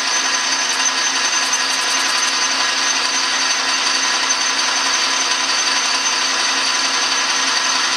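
A machine tool takes a 60-thousandths rough cut in metal, giving a continuous, even, close high whine and hiss for the full stretch, with brief faint ticking near the start.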